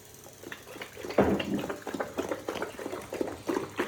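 A Doberman named Hercules laps water from a bowl, a steady series of close wet slurps and splashes with uneven rhythm.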